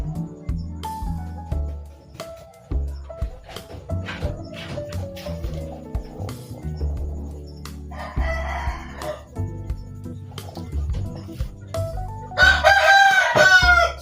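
A chicken with a respiratory illness, a rooster whose throat rattles audibly, is being treated with a remedy applied to its chest. It clucks and makes short calls throughout, then crows loudly near the end.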